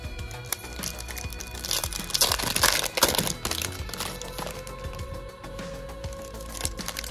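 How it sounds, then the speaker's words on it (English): Cardboard and plastic crinkling and crunching as a basketball card blaster box is torn open up close, with irregular cracks and rustles that peak midway, then quieter handling. "Doesn't take much to open up the box, so definitely no mega rip in here."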